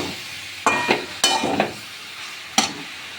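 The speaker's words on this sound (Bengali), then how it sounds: "ওলকপিটা ভালো করে আমি কষিয়ে নেবো" Kohlrabi pieces are stirred and fried in a pan for a vegetarian kohlrabi curry: a few sharp spatula scrapes and clinks over a soft, steady sizzle, close up, with no talking.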